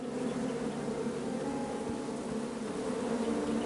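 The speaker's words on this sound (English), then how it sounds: "Bees! I ruined the bees' day and that lovely meal." A steady, close swarm of bees buzzes continuously around a beehive in King's Quest, a dense droning hum with no breaks.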